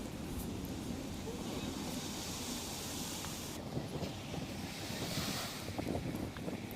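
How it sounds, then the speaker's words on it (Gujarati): Rough monsoon sea at Daman's Devka beach, with 10 to 15 foot waves, makes a continuous roar of surf churned by strong wind buffeting the microphone. "10 થી 15 ફૂટ ઊંચા મોજા ઉછળી રહ્યા છે"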